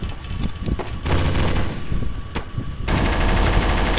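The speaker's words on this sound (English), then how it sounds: "I'm firing through the smoke." Rapid automatic gunfire in Counter-Strike: Source, loud and sustained, with bursts of shots that break off briefly and then resume.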